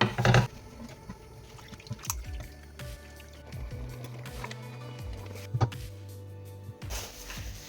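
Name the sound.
cherry pie filling cooking down while being stirred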